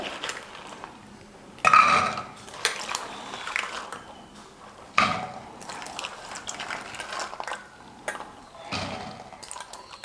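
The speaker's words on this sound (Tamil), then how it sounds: "குக்கர் எடுத்துக்கிட்டேன்" A pressure cooker and pots handled in a home kitchen while preparing soaked chickpeas for sundal, with scattered close metallic clanks and knocks, a few louder bangs, separated by quieter shuffling.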